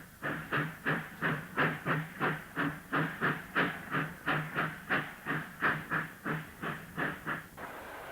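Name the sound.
locomotive pushing coal empty wagons to exchange sidings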